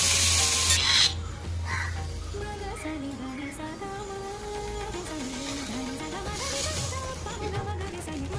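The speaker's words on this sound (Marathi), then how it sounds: "आता पाण्याचा हक्का मारायचा" Water splashed onto a hot oiled iron tawa, readied for moong dosa, bursts into a loud hiss that quickly settles into a softer sizzle, with a faint tonal hum running underneath.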